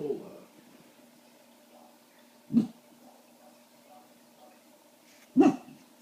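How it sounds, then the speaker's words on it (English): A chihuahua puppy gives two short, sharp yips a few seconds apart, close and fairly loud against a quiet indoor room, with faint soft voices in between. "Must be something if Lola's barking, huh"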